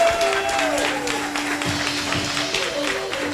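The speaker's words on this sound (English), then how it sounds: "Let's give him another round of applause" A congregation applauds a reverend's sermon at a Poor People's Campaign gathering, many hands clapping in a dense crackle while a held musical tone hums underneath.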